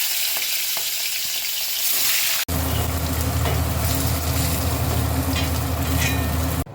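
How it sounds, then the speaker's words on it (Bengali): Fish dropped into hot oil in a pan fries with a loud, dense, continuous crackle and sizzle that jumps up sharply and holds steady, heard up close. "এবার আমি মাছগুলোকে ভাজতে দিয়ে দেবো এই তেলের মধ্যে"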